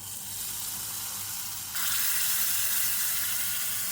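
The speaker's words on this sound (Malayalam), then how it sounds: "കുറച്ചേറെ വറ്റൽമുളക് കരിവേപ്പില താളിച്ചത് റെഡിയായിട്ടുണ്ട് നമുക്കിനി കറിയിലോട്ട് ഒഴിച്ചു കൊടുക്കാം" Hot tempering of red chillies, curry leaves and shallots poured into a Kerala raw mango curry, with a steady sizzle that jumps into a loud, bright hiss halfway through and keeps frying close up.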